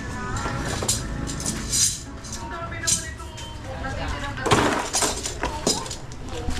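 Glass breaking near a boat, with several sharp clinking crashes and bursts of shattering noise spread across the clip while people talk.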